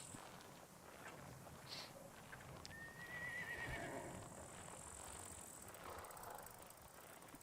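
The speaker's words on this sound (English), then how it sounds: "I heard that horse again." Horse whinnying once in the Scum video game, a thin rising neigh at moderate distance over quiet ambient background, with faint hoof clip-clop nearby.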